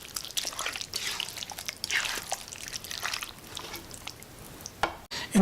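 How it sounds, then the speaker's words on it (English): Broth with about two tablespoons of organic brown sugar being stirred in a pot while making pork in shrimp paste sauce, giving steady soft scraping and sloshing for several seconds, with a louder clatter near the end. "I will give it a mix."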